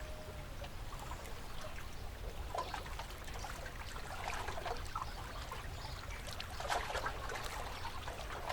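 Soft water sloshing and lapping against a boat, with gentle irregular splashes over a low rumbling background, quiet and continuous.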